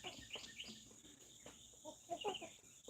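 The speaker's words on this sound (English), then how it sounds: "That is the chickens doing their thing." Backyard chickens clucking near their coop, a series of short, fairly close clucks and chirps from several birds with no talking.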